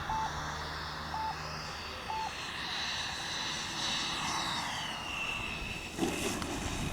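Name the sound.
Flyfans MiG-25 Foxbat EDF model jet on landing approach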